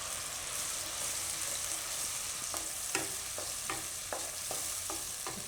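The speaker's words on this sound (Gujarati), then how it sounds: "આ રીતે થોડીક વાર ફેરવીને આપણે એમાં ડુંગળી નાખી દઈશું." Onion being stirred and fried in a pan for a Gujarati corn and fenugreek curry: a steady close sizzle runs throughout, with a series of sharp scraping clicks from the stirring spoon in the second half.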